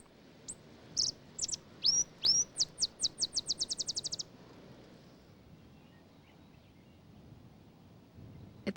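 A male Cassin's sparrow gives a chitter call in summer desert in southeastern Colorado: a few scattered chirps, then a rapid, accelerating series of high, sharp notes lasting a few seconds before fading into quiet outdoor ambience.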